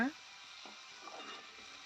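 Curry leaves fry in a pan as the base for an isukadondulu fish curry, a faint, steady sizzle after a brief clink at the start, with a voice heard faintly.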